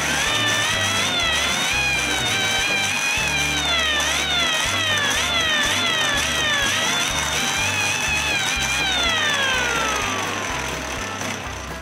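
A hand-crank siren for a police pedal car winding up and down repeatedly, its whine rising and falling in a wavering pitch over a rough mechanical grinding rhythm, loud and close, fading slightly at the end.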